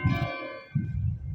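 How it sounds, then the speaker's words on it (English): Church bells ringing in a park, a resonant struck tone that rings out and fades before the next strike, with low rumbling background noise and no talking. "Looks like they're ringing the bells."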